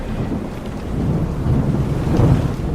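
Thunderstorm sound effect in a radio drama: a steady low rumble of thunder with heavy rain and wind, swelling slightly in loudness over a few seconds, with no voices.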